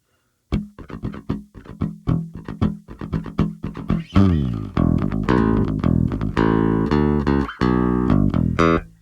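An electric guitar plays a rapid, choppy palm-muted riff that opens into loud, sustained distorted chords.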